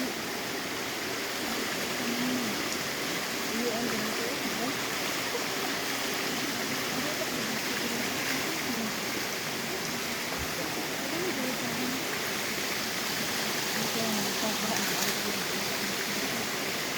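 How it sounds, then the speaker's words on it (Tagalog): Water in a stream on a hill flows steadily with a constant rushing wash. It sounds fairly faint and continuous, with no talking. "malakas na yung daloy ng tubig doon"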